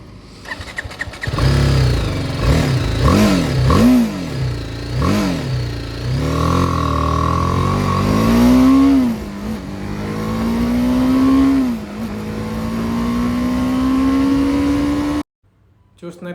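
A 2024 BMW G 310 R motorcycle on a test ride, its engine revving up in several sharp bursts, then pulling through long rising gear runs before cutting off abruptly, loud and close.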